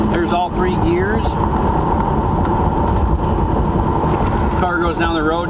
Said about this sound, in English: Car goes down the road nice.